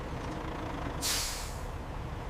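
A truck pulls up at a sugar factory weighbridge over a steady engine rumble, and halfway through its air brakes release one sharp, loud hiss that fades over about half a second.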